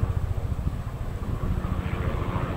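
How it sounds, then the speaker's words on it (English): A helicopter passes overhead outdoors, a steady low rotor rumble and whir that fills the background without any talking. "there's a helicopter going by"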